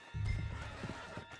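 A horse in the video game Red Dead Redemption 2 whinnies in a short, loud burst, followed by hoof clip-clops as it moves off.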